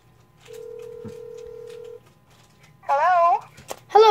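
A phone call placed on speakerphone: a single long steady ringback tone, then after a pause a voice answers and speaks through the phone speaker.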